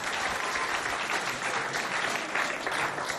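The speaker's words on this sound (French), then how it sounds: "Applaudissez bien fort pour vous" Dense applause from a school audience at a lycée show in Doba, Chad, steady and loud throughout, a continuous wash of many hands with no pause.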